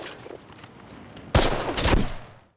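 Sniper gunfire from the TV series Band of Brothers, a sudden loud shot followed by a second blast and echoing rumble that fades out, after a quieter stretch of background ambience.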